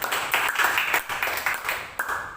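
Church congregation clapping hands during a night prayer service, a dense rhythmic patter of many hands at moderate distance, steady and even.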